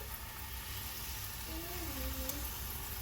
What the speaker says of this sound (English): So the pot is definitely nice and hot. I definitely have that sizzle.